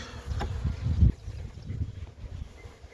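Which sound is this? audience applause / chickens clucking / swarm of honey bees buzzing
swarm of honey bees buzzing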